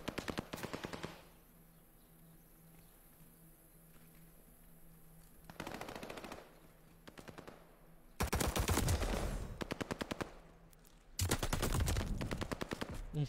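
Bursts of automatic gunfire in a ranked online shooter match, rapid rattling volleys with quieter gaps between, the loudest sustained strings coming near the end, no talk.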